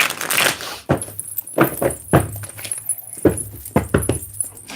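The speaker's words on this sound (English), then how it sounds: "I want to give these cards like a really good shuffle" A deck of tarot cards being shuffled close by, in repeated crisp riffling bursts and slaps with short pauses between them, heard alone without speech.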